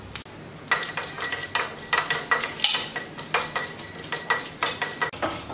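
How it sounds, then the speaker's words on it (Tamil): Chana dal and mustard seeds frying in ghee, stirred briskly with a spoon that clanks and scrapes the pan in quick repeated strokes over a soft sizzle, close and fairly loud with no voices. "கடுகு போட்டு தாளிச்சுக்கலாம். கடலைப்பருப்பு போடுறேன். நல்லா செவந்து வர வரைக்கும் கிண்டி விட்டுருங்க."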